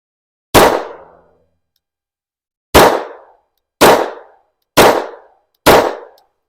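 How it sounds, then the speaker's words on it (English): Five sharp 9mm pistol shots from a Shadow Systems MR920 Combat on a range, one alone, then four more in a steady, evenly spaced string, each loud, close and cracking with a short decaying tail. "I'm just going to shoot 5 rounds at this guy's face right now"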